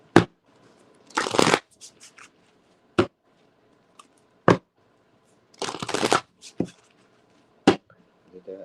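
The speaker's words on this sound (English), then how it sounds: "Get a quick shuffle." Tarot cards being shuffled in a series of quick riffling bursts and sharp taps, close and fairly loud, with short silences between them and no talk.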